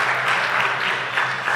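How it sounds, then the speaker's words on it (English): Steady, dense applause from a crowd of spectators at a squash match, continuous and fairly loud with no talk. "just look at that applause"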